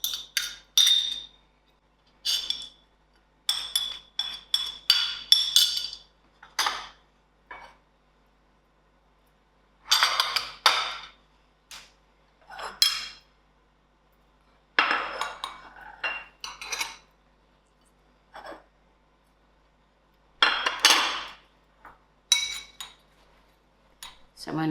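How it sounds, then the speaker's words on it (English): Chai spices being stirred in a bowl, heard as repeated bursts of clinking spoon-against-bowl scraping and tapping separated by short silences, close and crisp. "So I'm going to give this a good mix."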